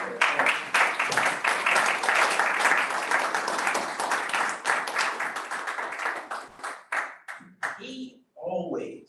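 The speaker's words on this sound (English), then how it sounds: "I just think that deserves a round of applause" A room of attendees at a Rotary club award presentation breaks into dense, steady applause that thins into scattered claps and then stops, with a voice speaking briefly at the end.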